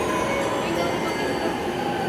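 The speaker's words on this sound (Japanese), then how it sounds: "電車に乗ります。" Tokyo commuter train at a station on a stamp-rally trip toward Ueno, giving a steady, loud rumble of rail noise and a constant hum throughout, with faint voices in the background.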